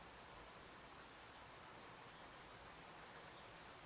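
Steady summer rain falls in Britain, a soft even hiss with no talk over it.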